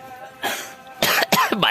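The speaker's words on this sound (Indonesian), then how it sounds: "Batuk aing." A person coughs twice in a busy Sundanese community kitchen, close and loud, two sharp bursts after a quieter breathy sound.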